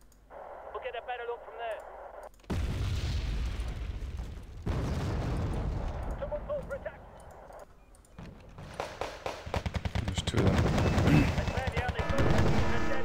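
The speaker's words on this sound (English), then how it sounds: "I'm being sniped." Sniper shots and gunfire in the strategy game Wargame Red Dragon, quiet at first, then bursts of shooting and booms that build into dense rapid fire near the end, with voices talking over it.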